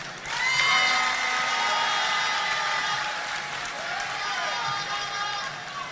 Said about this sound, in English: Another round of applause for our honorable chairman.